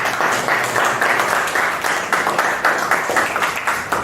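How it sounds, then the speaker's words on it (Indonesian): A class of teacher-training students claps for the best-presenting group, a steady, dense patter of many hands that continues throughout with little pause. "kita berikan aplaus untuk kelompok 1"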